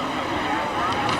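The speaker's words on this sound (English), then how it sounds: "And Brian Perkins, and we can hear some compression stall with Brian as the boat goes by." An unlimited hydroplane race boat roars past at the 2011 Tri-Cities Columbia Cup, its engine suffering compression stall, a steady broad loud rush of engine and water noise with wind buffeting the microphone.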